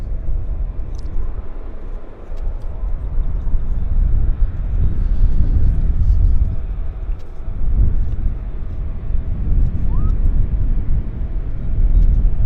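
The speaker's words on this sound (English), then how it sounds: "Beautiful to see British-built airplanes here in Vancouver, earning their keep." British-built airplane at Vancouver Airport, a broad, steady low engine roar rumbling continuously and fairly loud, swelling and easing slightly over several seconds.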